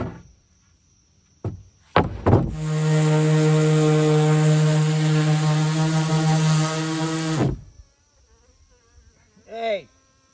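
A handheld power sander runs steadily for about five seconds in a workshop where a trail cart is being built from chainsaw-milled lumber, a loud sustained whine starting and stopping abruptly, with brief clunks before it.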